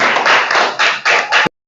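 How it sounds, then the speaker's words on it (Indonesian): Classroom applause for a student: a short burst of several people clapping in quick uneven pulses for about a second and a half, which then cuts off abruptly. "Tepuk tangan untuk Bunga."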